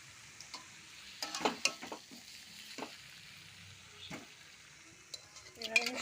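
Mutton and potatoes are scraped and spooned out of a wok into a pressure cooker, producing quiet scattered clinks, scrapes and soft thuds in irregular bursts, with a faint sizzle underneath and a few metallic knocks near the end.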